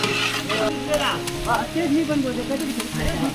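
Onion and garlic sizzle while frying in a pan for a village feast in Konkan, a steady close crackle under a person talking.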